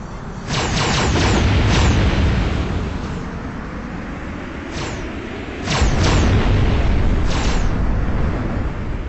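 Loud booming explosions and blasts from ships firing in the mid-90s PlayStation space racing game Starwinder, a continuous roar with repeated sharp bursts throughout.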